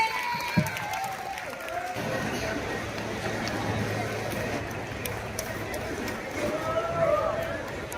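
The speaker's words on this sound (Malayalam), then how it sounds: "നല്ലൊരു കൈയടി കൊടുത്തേ" Crowd at a prize-giving event breaking into sustained clapping, a thick patter of hand claps that continues steadily, with a voice and general crowd chatter running over it.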